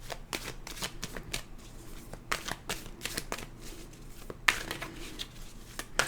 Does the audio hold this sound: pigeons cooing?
no